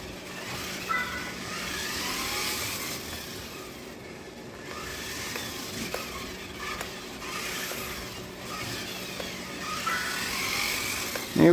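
Xmods Evolution RC car wearing a '55 Chevrolet Bel-Air body shell driving, a moderate whining motor rising and falling with throttle over scattered background noise, ending in a sudden bump.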